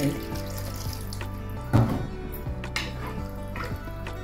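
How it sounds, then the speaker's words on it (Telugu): Water runs into a cooking pan of potato curry, with a few clinks and splashes partway through; no talking. "ఇలా కలిపేసుకొని మనం కొంచెం వాటర్ వేసుకుందామండి"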